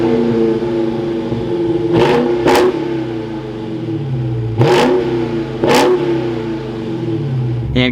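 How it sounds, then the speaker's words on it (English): A 2022 Dodge Charger SRT Hellcat's engine idles with a deep, rumbling burble, then snaps through four sharp revs in two pairs, loud and close, each blip dropping back to the lumpy idle. "let's fire this Hellcat back up"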